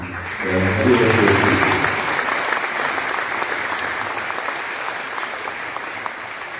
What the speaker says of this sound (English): There's a lot of, there was clapping in the background.